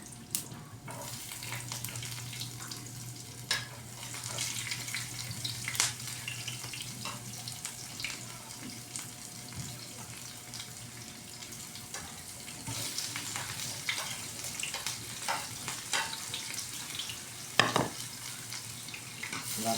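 Garlic and onion fry in hot oil, a continuous crackling sizzle running throughout with scattered utensil clicks and occasional sharper taps, fairly quiet and with no speech.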